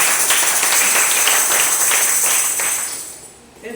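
Church congregation clapping loudly, a steady wash of many hands with a few stronger claps, filling the room and fading near the end.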